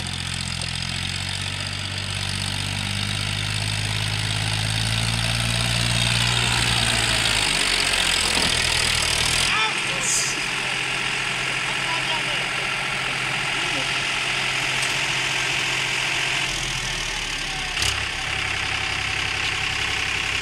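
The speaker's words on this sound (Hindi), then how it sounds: "अब ट्रैक्टर आ रहा है, देखना" Powertrac 437 tractor engine chugging steadily while working through deep mud, a loud continuous low rumble that shifts in load partway through, with voices talking over it.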